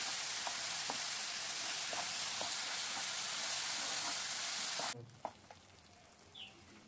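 Ground spices sizzling in hot oil in a pan while capsicum chicken is cooked, a steady loud frying hiss with stirring clicks that suddenly drops away near the end, leaving faint scrapes.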